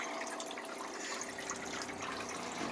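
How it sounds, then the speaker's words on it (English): Water in a guppy fish tank splashes and swirls while fry are netted, a steady close hiss of moving water throughout, no talking. "Now the water's going to move too much."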